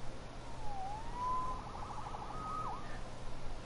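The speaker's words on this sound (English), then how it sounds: "Saved by the siren." A police siren in the Spider-Man video game wails faintly in the distance, its rising and falling tone sweeping over a steady low hum for several seconds.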